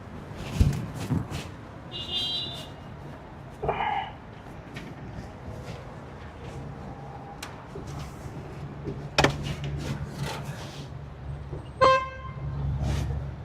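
A car horn toots at a tuk-tuk on a Lisbon street, a few short honks spread out over the street noise, with idling traffic underneath and a door sound nearby.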